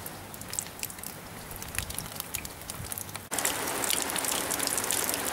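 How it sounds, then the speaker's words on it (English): Continuous rain patters and hisses on a surface, with scattered drops, then abruptly grows louder and denser partway through. "Rain, rain, go away."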